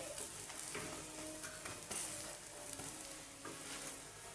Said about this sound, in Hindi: अब इसी तरह से हमारा बकाया जो बचा हुआ अंडा है उसको भी इसी तरह से हम कर लेंगे फ्राई 1 से 2 मिनट के लिए